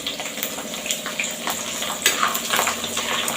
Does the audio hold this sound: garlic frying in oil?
yes